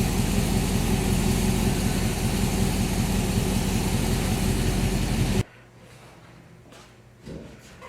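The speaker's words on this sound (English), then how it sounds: "Idle's great with the stop converter. No hooking and bucking, not stalling." Idle of a Chevrolet Silverado V8 fitted with a new camshaft and headers, a loud steady low rumble for about five seconds that then cuts off abruptly, leaving faint background and a brief soft bump near the end.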